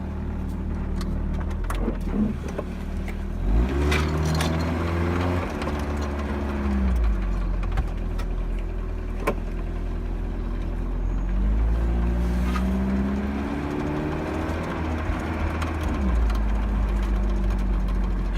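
A car with a freshly swapped block and head idles and drives around a neighborhood, a steady low engine drone with several rev rises and gear-change dips, close and alone without talk.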